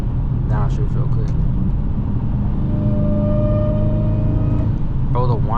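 A car engine whines steadily over a heavy road rumble while driving down a city street at night in California, with rising tonal lines held throughout and brief bursts of other sound at the start and end.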